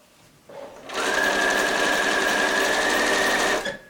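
A sewing machine stitches a plain grocery bag, starting softly then running in a steady, loud continuous whir for nearly three seconds before stopping, with no talk.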